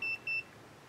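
A 101hero 3D printer gives two short, high electronic beeps in quick succession, fairly quiet over a faint background hum.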